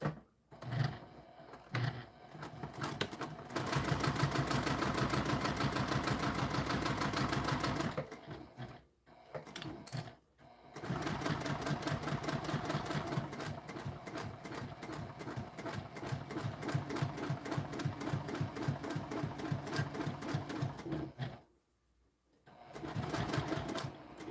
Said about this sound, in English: All right, top stitch that.